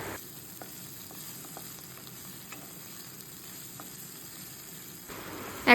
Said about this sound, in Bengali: তারপর কড়াইয়ে তেল দিয়ে এখানে ক্যাপসিকাম আর মাশরুম আমি ভেজে নেব।